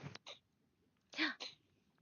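A single sharp sneeze bursts out near the start, followed moments later by a second short sneeze-like burst, with quiet room tone between and voices talking close to the microphone.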